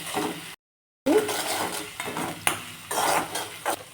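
Green chili and garlic paste fry in a pan as a spoon clinks and scrapes against the metal, with a light sizzle beneath the stirring strokes and one brief silent gap.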